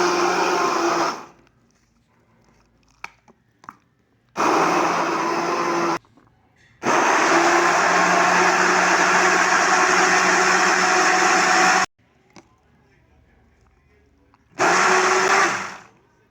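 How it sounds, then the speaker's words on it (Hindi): Electric blender pulsing strawberries in a jar, running in three loud bursts of about five seconds with short quiet pauses between, a steady whirring motor close up with no talk. "स्ट्रॉबेरी को हम जार में डालते हैं और उसको ब्लेंड करते हैं।"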